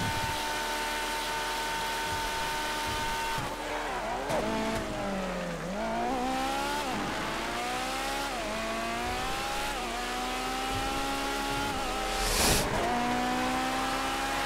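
Racing cars in GTA V run on a steady, loud engine drone with shifting pitch as they rev and ease off, tires squealing at moments through a drift, with no talk over it.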